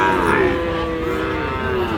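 Cattle moo at a Sahiwal bull calf market, a long, loud low call rising over a steady crowd murmur and background livestock noise.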